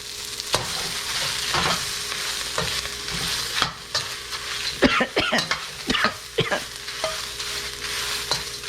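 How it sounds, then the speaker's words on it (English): Steady sizzle of aromatics and peppers frying in hot oil over medium heat, with scraping stirs and a few sharp clatters against the pan, close and fairly loud. "Add your oil, reduce to medium, swirl, throw on your aromatics. That includes the peppers."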